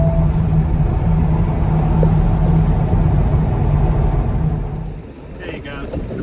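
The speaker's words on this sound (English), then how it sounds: "Using the engine brake, I mean, it slows me down very well." A truck's engine drones low and steady under engine braking, close and loud in the cab, easing off near the end as the vehicle slows, with a voice talking over it.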